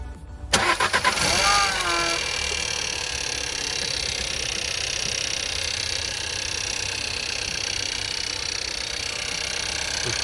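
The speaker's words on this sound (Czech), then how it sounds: "studený start auta za mě je v naprostém pořádku" A Seat car engine cold-starts with a brief cranking burst, then settles into a steady, close idle that runs evenly for the rest of the clip.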